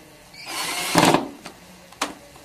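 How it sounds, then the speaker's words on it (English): Connecting bolts being screwed into pre-drilled holes in sewing cabinet panels, a short close whirring burst followed by a couple of brief sharp clicks of handling. "They simply screw in place in the pre-drilled hole."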